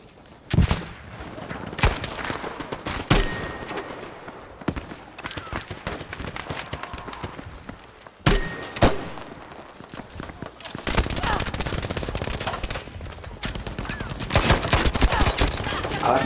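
M3 Grease Gun fired full-auto in the shooter game Battlefield V, with several bursts of gunfire and a few sharp single cracks over about sixteen seconds, loud and close, amid battle noise.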